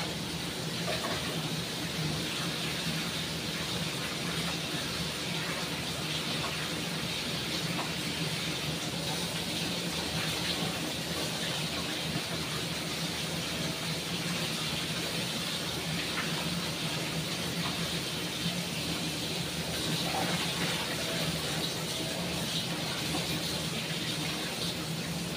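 Cut tomatoes being washed under running water in a home kitchen, a steady, even hiss of flowing tap water that continues unbroken for the whole stretch with no talking.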